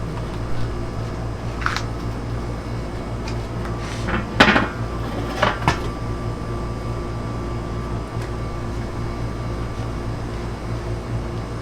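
A Weber kettle grill lid is lifted open while beef chuck short ribs cook, giving a few short metallic clanks and scrapes near the middle, close and moderately loud over a steady low outdoor hum.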